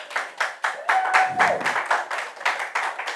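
A studio audience on a sports talk show claps in a quick, steady rhythm, several bursts per second, fairly close and loud, with a brief whistle-like tone mixed in partway through.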